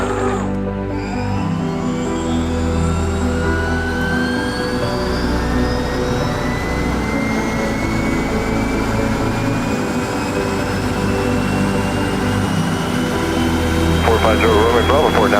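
2007 Eclipse Aerospace Eclipse 500 jet taking off from runway 13 in light snow: a steady loud jet engine roar with rising whine tones throughout, heard from inside with a radio voice talking over it.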